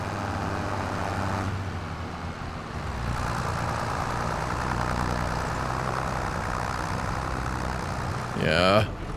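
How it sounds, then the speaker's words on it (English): A vehicle engine idles with a steady low rumble in the Farming Simulator 25 video game, holding constant throughout with a brief higher whine near the end. "That engine though kept purring like it still wanted to prove like it could purr"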